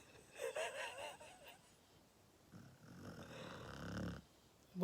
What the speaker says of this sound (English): all three of them are snoring